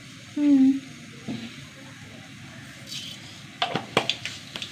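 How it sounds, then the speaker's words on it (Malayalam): Mustard seeds pop in hot oil, giving a cluster of sharp crackles near the end after a quiet low sizzle, with a brief tonal sound early on. "കടുക് പൊട്ടി"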